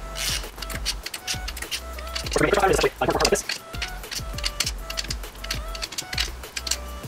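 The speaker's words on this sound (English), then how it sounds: "Here I'm gonna just kind of snug these acorn nuts down with a ratchet" A ratchet snugs down acorn nuts on a Yamaha YZ250 two-stroke engine, giving a steady run of close, crisp clicks with a louder, busier burst midway.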